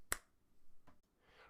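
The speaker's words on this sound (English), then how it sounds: "I need to snap my fingers and teleport" One sharp, crisp finger snap cracks close at the start, followed by quiet room noise and faint rustling.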